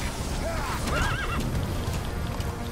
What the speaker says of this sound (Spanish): El caballo, lo malo es que no obedece mucho.